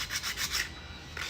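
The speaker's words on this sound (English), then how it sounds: "More sanding." A sculpture is sanded by hand in a quick series of about five rhythmic rubbing strokes, close and fairly soft, then a short pause before one more stroke begins.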